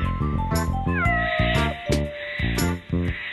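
Cartoon cat meowing in a children's animated adventure, several drawn-out, loud meows and a pitch-sliding yowl over a steady rhythmic music backing, with no speech.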